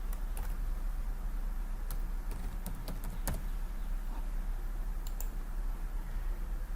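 Sparse computer mouse clicks, a handful of sharp single and double taps, sound close over a steady low hum while a website is edited, with no talking.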